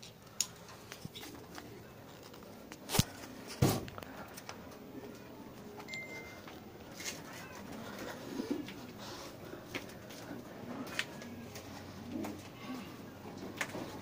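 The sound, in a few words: pigeons cooing near newspaper nest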